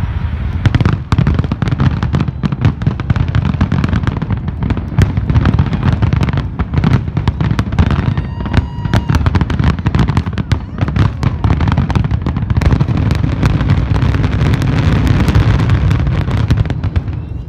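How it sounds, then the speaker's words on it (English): Fireworks at a night display burst continuously in dense, loud booms and crackles, with many overlapping pops and no break across the whole stretch. "We went to the fireworks on Monday night just for something to do."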